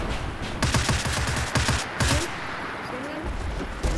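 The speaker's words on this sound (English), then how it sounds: "Oh, we're taking shots though. We're taking shots." Bursts of gunfire crackle in a VR battlefield shooter game, with rapid shots coming in clusters under players' talk.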